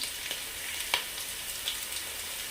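Tomatoes sizzling in a pan for biryani, a steady fine crackle of frying close by with a couple of faint clicks, no voices over it.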